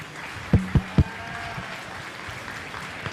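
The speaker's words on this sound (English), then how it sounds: "Let's give our senior showman a nice round of applause." At a 4-H sheep show, a few isolated hand claps ring out in quick succession, three sharp, close slaps over a quiet room hum before things settle back down.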